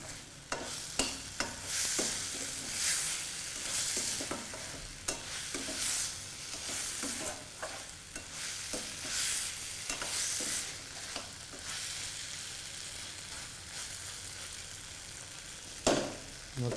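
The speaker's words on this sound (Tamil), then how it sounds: "இதை அப்படியே வந்து இந்த மசாலா கூட அப்படியே பரட்டணும்." Potatoes and green peas are stirred with masala in a pan for a Chettinad potato and pea fry, giving repeated close scraping strokes over a steady soft sizzle, with no voices.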